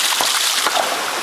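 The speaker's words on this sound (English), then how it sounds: "Hear that? That's the sound of that back gurgle." A wet, bubbling gurgle of water and air sloshing back through a failing ram pump, continuous and fairly loud, with a few sharper splashy bursts.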